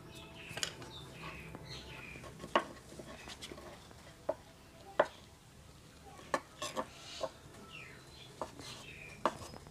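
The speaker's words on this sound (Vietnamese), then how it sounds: "Các bạn xắt như thế này cho nó hết cái phần tàu hũ của mình ra nha các bạn." A knife finely chops fresh tofu skin on a cutting board in a home kitchen, making sharp, fairly quiet taps at an irregular rhythm over a faint background hiss.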